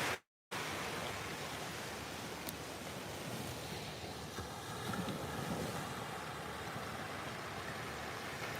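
Ocean waves washing onto a beach strewn with seaweed: a steady, broad rushing hiss of surf, continuous and fairly soft, with faint wind noise and no speech.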